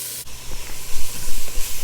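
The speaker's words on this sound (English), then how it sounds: "you can add the garlic, and I have 2 cloves ready to go" Garlic cloves and vegetables sauteing in butter or oil in a pot, a steady close hiss with soft sizzling crackle and a few faint pan knocks, no talking.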